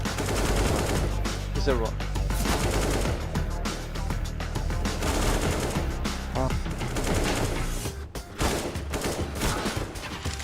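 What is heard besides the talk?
AK rifle gunfire in the video game CS:GO on Overpass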